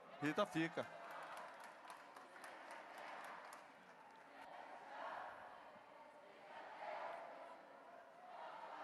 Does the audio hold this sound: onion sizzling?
no